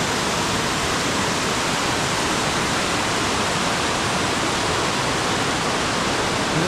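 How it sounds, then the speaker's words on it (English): Waterfall at Gloria Falls roaring from right at the top of the falls, a loud, steady, broadband rush of pouring water that fills the whole stretch without a break or any voices. "we're literally on top of the waterfall"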